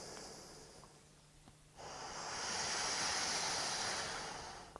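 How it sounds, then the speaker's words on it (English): A person breathing out slowly and steadily while following a respiratory biofeedback app, a soft, close airy exhale that swells after a quiet pause and holds for a few seconds, with no talking. "breathing out"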